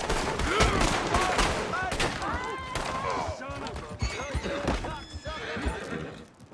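Scattered gunshots and rapid fire in Red Dead Redemption II, mixed with neighing horses, clopping hooves and people talking, a busy chaotic skirmish with loud, irregular shots.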